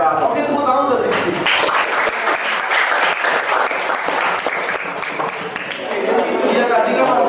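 Applause for a student named Rizky in a classroom coaching session: a sustained burst of many hands clapping, loud and close, lasting several seconds with steady energy before tapering slightly.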